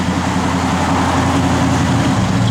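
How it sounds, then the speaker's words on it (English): Air-conditioning compressor running in a 1975 Pontiac Trans Am, a steady low mechanical hum and drone with the engine idling underneath, constant and close. "compressor's making a little noise"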